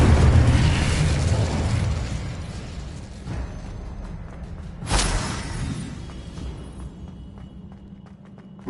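An Incendio fire spell cast in Hogwarts Legacy erupts as a loud roaring blast of flame, settles into a crackling rumble, then gives a second sharp burst before tailing off.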